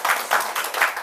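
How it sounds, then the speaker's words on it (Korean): A church congregation at a revival meeting claps together in a brief, rhythmic burst of about four beats, fairly close and moderately loud. "하나님께 영광의 박수 올려드립니다."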